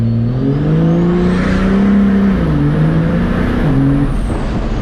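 A 1113-horsepower compound-turbo Cummins diesel truck launches hard with all four tires spinning, a loud sustained engine roar whose pitch rises and wavers, with a high turbo whine running above it throughout.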